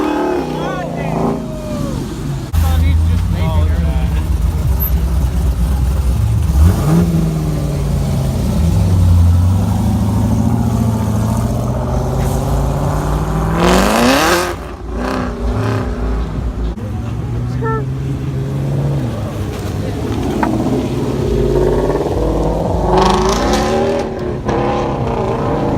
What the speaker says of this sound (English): Wide body Hellcat.